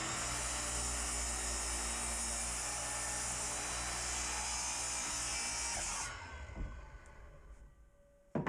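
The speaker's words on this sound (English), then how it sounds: "We start the miter saw." A miter saw motor roars loud and steady while cutting wood for a round table top, then winds down and fades near the end, with no talking.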